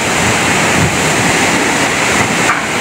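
A loud, constant roar of strong typhoon wind, at signal #4 in Ligao City, Albay, fills the air with a broad rushing noise and no pauses.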